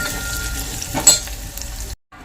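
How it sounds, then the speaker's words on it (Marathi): Tempering (phodni) for pithla sizzles in a pan on a home stove: a steady, close crackling hiss that stops abruptly near the end. "इथं फोडणी दिली मी असं"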